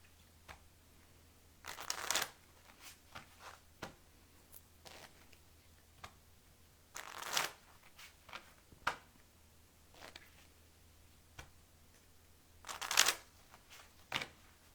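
Oracle cards being shuffled in a quiet room during a full moon reading: three distinct bursts of riffling, each a second or so long, separated by softer taps and handling sounds, fairly close and with no talk.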